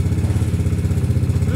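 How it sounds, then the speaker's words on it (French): A small two-stroke dirt bike engine idles loudly and close by while breaking in after its first start, its fast uneven putter and mechanical clatter holding steady with no talking. "on la laisse tourner pour la rôder un peu."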